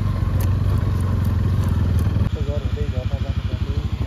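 A motorcycle engine runs loud and close, a steady throbbing drone that drops into a slower, pulsing idle rhythm as the bike comes to rest, with a faint voice heard briefly.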